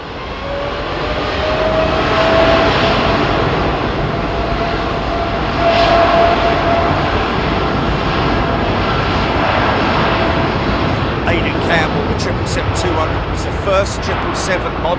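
Boeing 777 airliner at London Heathrow, a strong sustained jet engine roar with a rising whine, swelling and holding steady, with voices talking over it.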